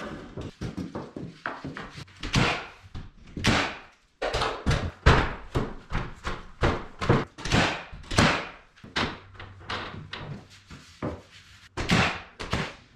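A trap door in a shipping container barn is worked repeatedly, giving a steady series of loud wooden thunks and bangs close by, with short gaps between the impacts.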